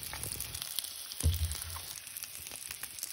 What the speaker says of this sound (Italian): Aspettiamo un attimo se rosolisce lo scalogno e se rosoliscino questi